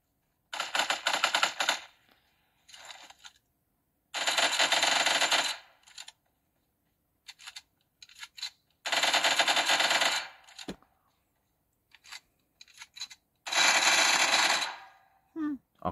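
Bursts of rapid automatic gunfire from PUBG play on an Ulefone Armor 20WT phone, heard as four loud clusters separated by silences and short scattered shots, coming from the small phone speaker.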